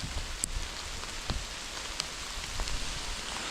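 Heavy rain falls steadily on trees along a countryside path, a dense, even hiss with a few sharper drips and drops standing out against the constant wash.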